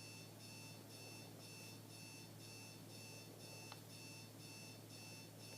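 An alarm clock beeps steadily in a repeating pulsed pattern, holding an even level throughout, with no one talking.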